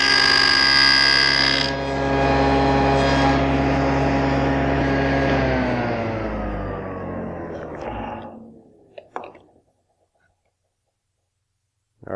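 A SawStop table saw cuts a box joint in a board, its motor holding a loud steady whine with strong harmonics before winding down in pitch to silence, followed by a couple of faint clicks.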